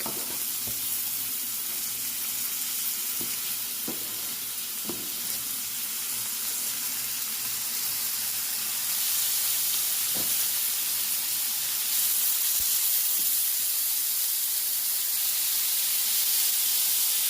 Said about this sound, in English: right now he's mixing it all together, the onions and the steak, the quick steak